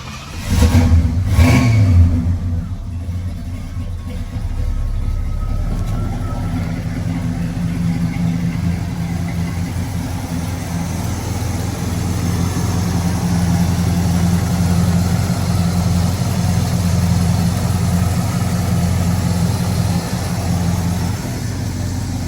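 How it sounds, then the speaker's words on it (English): A 1972 Pontiac Grand Prix Model J engine cranks and starts with a rising rev, then settles into a steady, smooth idle that continues evenly for a long stretch. "So let's fire this thing up."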